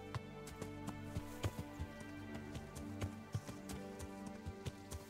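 Horse hooves clip-clop at a steady walking rhythm in Kingdom Come: Deliverance, a string of sharp, moderately close hoof strikes over a low game music bed, with no talk.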